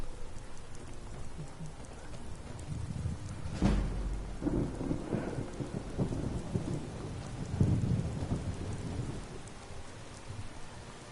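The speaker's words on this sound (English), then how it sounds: "if I walk outside right now, it's gonna be raining" In the video game Skyrim, modded, steady rain patters throughout while thunder rumbles, with one sharp crack followed by deep rolling booms.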